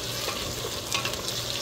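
Ingredients for goat caldereta sauté in a hot pan, giving a brief, dense, even sizzle with a faint stir partway through and no voices.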